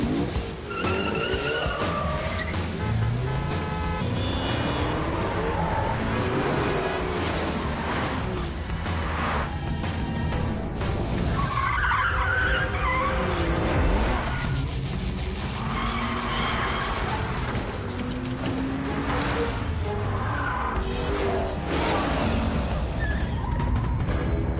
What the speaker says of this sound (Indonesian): Sialnya sebuah truk besar yang lewat tiba-tiba menabrak mobil Kapten Cheng